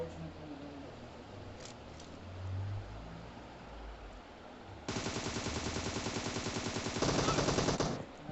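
Rapid bursts of gunfire in the video game Free Fire rattle in fast automatic strings near the end, following a quieter stretch of low background noise.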